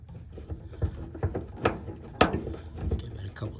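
A hand ratchet works a bolt back into place while a ditch light bracket is fitted to a 2022 Toyota Tundra, a series of fairly close clicks and short mechanical snaps with a few sharper knocks and a voice faint in the background.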